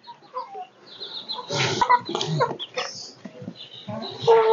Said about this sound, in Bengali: আপনারা মুরগিগুলো দেখতে পাচ্ছেন